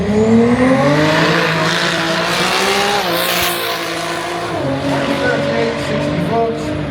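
A 1400 bhp Toyota A90 Supra in race mode on a quarter-mile drag run, its engine roaring loud and continuous with the pitch climbing through the gears, plus a faint voice in the background.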